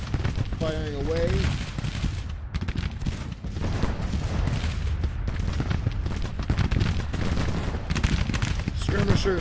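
Musket volleys in the Grand Tactician Civil War strategy game, a dense, continuous crackle of massed gunfire with heavy booming underneath, loud and sustained throughout, while someone talks over the battle.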